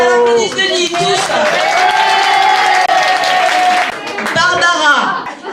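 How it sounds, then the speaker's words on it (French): Audience at a retirement party bursts into loud, sustained applause and cheering, a dense crowd clapping that fills the room for several seconds, with a brief dip then continuing. "Je voudrais qu'on applaudisse Denis, tous."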